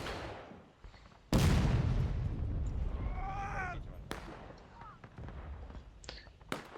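A single sharp gunshot cracks out in a Civil War video game match, loud and sudden against a quieter battlefield bed, with a few fainter pops and a brief tonal game sound afterward.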